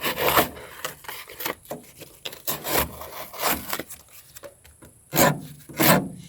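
Thin knife blade slicing through a material in a series of rasping, rubbing strokes, near and fairly loud, with irregular pulses and a couple of stronger cuts near the end.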